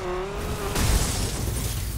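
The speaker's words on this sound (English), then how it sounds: "I just smashed my car into I don't even know what" A car in The Crew racing game smashes into something, a sudden loud crash and shatter breaking over a steady engine drone with a tonal whine, short and close.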